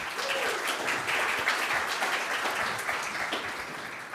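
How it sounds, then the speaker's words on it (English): Applause from a conference audience at a Python developer talk, a steady, even wash of many hands clapping at moderate distance, continuing without pause. "Big round of applause, please."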